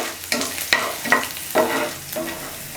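Garlic sautéing in a pan for kara chutney, with a steady background sizzle and about five louder scraping stirs spaced roughly half a second apart. The sound is close and fills the clip, and no one speaks.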